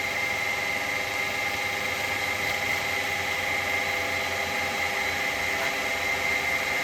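A wood lathe runs with a continuous, even motor hum and whine during woodturning with a carbide chisel, steady and unbroken from start to finish with no talk.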